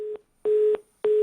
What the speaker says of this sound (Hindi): चलिए पूनम से संपर्क टूट गया है।